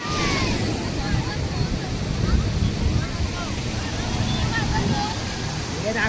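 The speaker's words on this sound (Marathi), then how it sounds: "हे बघा, हे दांडे बीच आहे." Ocean surf at Dande beach rolls on steadily for the whole stretch under strong wind buffeting the microphone, with a constant washing roar and no clear break between waves.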